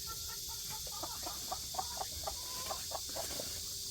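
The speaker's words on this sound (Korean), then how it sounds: "얘들이 청개닭들인데" Cheonggye chickens cluck softly in a farm enclosure, a quiet run of short, closely spaced clucks against a faint steady background hiss.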